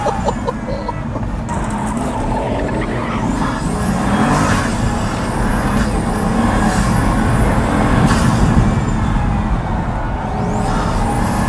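A Pagani Huayra supercar accelerating hard on a road in Italy, its engine giving a loud, steady roar from inside the cabin, with rising whine-like tones sweeping up and down as it pulls through the gears.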